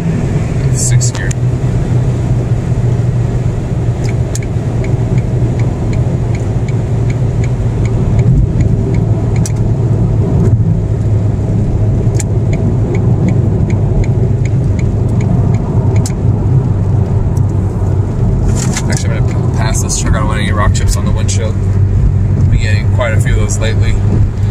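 Ford Focus SVT engine pulling steadily in sixth gear, a continuous low drone with road and cabin noise, brief higher clicks and rattles near the end, with people talking quietly over it.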